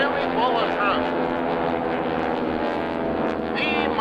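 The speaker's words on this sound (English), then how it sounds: "Lots of energy picked up by the big 450 horsepower Pratt & Whitney engine" A Stearman biplane with a 450 hp Pratt & Whitney engine drones loudly overhead at an airshow, a rich, steady radial-engine roar with shifting pitch as it passes, while an announcer speaks over it.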